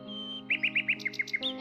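Small birds chirp in a quick run of bright, repeated notes over a steady background tone, fairly soft and brief.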